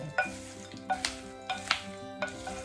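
Garlic and peanuts with skins frying in a pan while being stirred, giving a steady sizzle broken by scraping, clinking utensil strokes about every half second, close and alone with no talk.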